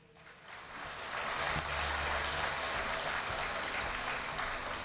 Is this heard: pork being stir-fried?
no